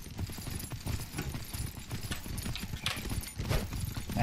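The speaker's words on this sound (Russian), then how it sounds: "лошадь тут мечется вокруг" Hooves clatter as a horse gallops around in Myth of Empires, a fast rhythmic clip-clop with scattered thuds and combat noise, fairly close, without speech over it.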